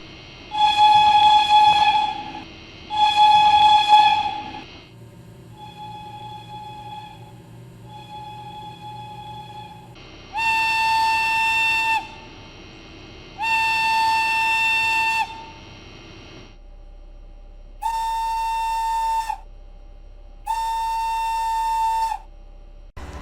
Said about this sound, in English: here is a comparison of the whistle sound of the two locomotives.